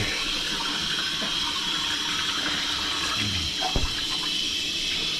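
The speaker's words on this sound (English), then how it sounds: "I'm gonna just quickly wash my hands off of the egg." Running tap water splashes steadily into a kitchen sink while hands are rinsed of raw egg, a continuous close hiss with a brief slosh near the end and no talking.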